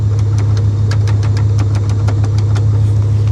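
A car engine idles steadily with a low hum and a regular ticking knock, while the vehicle's transfer case is jammed in neutral and four-wheel drive does nothing.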